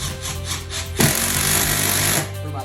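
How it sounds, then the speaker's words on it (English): A power drill drives wood screws through a ceiling fan box into a wood joist overhead, a high whirring burst that starts abruptly after light tool rattling and grinds steadily for about a second before stopping. "I'm gonna use these wood screws so that I have really good support"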